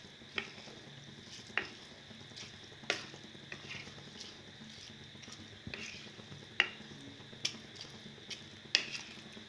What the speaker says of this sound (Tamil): உடஞ்சிராமல் லைட்டாக கிளறி கொடுங்க.